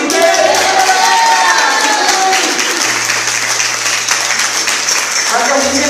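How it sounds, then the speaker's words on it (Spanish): A church congregation applauds during a sermon in a Mexican Otomi-language service, dense sustained clapping from a crowd filling the room, with voices calling out over it. "denle un aplauso al que vive"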